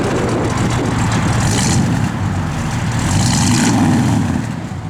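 Engine of a 1969 Dodge Charger R/T with a 440 V8 running steadily up close, a loud deep rumble with slight swells in revs, heard alone without talk.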